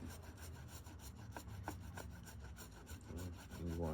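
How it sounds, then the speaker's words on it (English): A paint roller rolling paint out thin on a flat surface while repairing patent leather, a quiet rhythmic rubbing and swishing with repeated strokes, close and faint, with no voice over it. "Get your roller and then roll your paint out thin."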